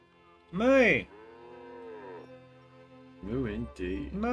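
Loud bleating moos from farm animals come in a long wavering call and then a few shorter calls, close and clear against a quiet background, with speech nearby.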